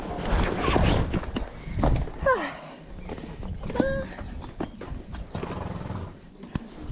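A horse walks with steady clip-clopping hooves during a trail ride on the Azores, close and clear, with a whinny partway through and a few people speaking nearby.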